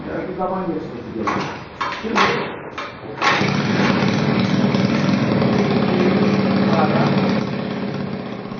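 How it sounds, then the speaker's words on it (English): A Honda C90 motorcycle engine cranks with a few sputtering attempts, then catches and settles into a steady, loud idle. "And here I am firing up the bike."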